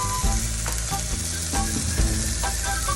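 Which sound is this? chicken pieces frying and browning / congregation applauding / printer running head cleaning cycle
chicken pieces frying and browning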